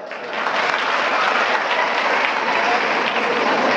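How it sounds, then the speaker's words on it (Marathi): Loud, sustained applause from an audience at a Marathi motivational talk, steady clapping filling the whole stretch without a break. "त्याच्यासाठी जोरदार टाळ्या वाजवा."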